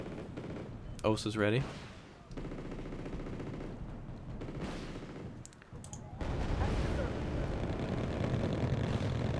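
Strop missile units fire in the Wargame: AirLand Battle video game, giving dull launch bursts and rumbling explosions under a steady battle din, with a brief voice line in the middle.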